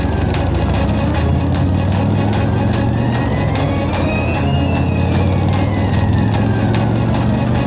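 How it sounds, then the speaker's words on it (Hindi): A steady, loud engine drone with a low rumble runs without pause, standing in for a motorcycle ridden around a small pit in a Motu Patlu cartoon. "इसमें चलाओ मोटरसाइकिल"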